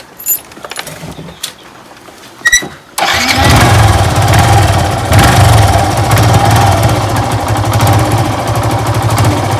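A motorcycle engine bursts into life after a few quiet clicks and handling noises, then runs loud and close with a steady, rough idle to the end.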